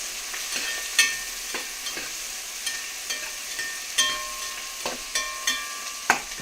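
Onions tossed and stirred in a hot pan for goulash, with a constant sizzle under regular spoon clicks and scrapes against the pan, close up and without talk.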